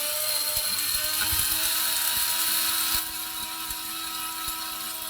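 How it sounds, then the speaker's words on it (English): An electric coffee grinder grinds roasted coffee beans to a coarse setting, a loud continuous whirring and rattling grind with clicking crunches, the motor pitch dropping slightly near the end; no one speaks. "I don't need to grind it until it's powder, like talcum powder."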